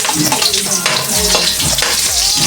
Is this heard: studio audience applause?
no